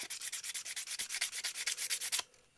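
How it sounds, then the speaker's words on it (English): Coarse sandpaper rubs back and forth across a shiny surface to roughen it, making about twenty quick, even rasping strokes in a steady rhythm close to the listener before stopping abruptly. "So what you do is you get coarse sandpaper."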